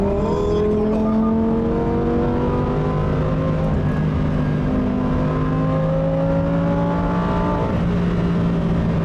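The engine of a Lamborghini Huracan STO pulls hard through the rev range, its tone climbing steadily and sharpening as it passes about 4,600 rpm. It is loud and heard from inside the car, with no talking.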